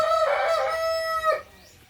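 A rooster crows once, a loud close drawn-out call lasting over a second, in a backyard flock that includes Brahma hens, followed by quiet.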